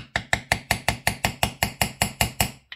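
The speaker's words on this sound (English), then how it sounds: "And I'll just take a socket and a hammer." Hammer striking a socket to drive a crank seal into a Stihl 038 Magnum chainsaw, about thirteen evenly spaced sharp metallic taps, close and clear, with no talking.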